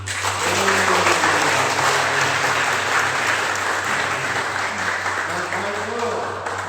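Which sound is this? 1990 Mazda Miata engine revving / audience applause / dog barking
audience applause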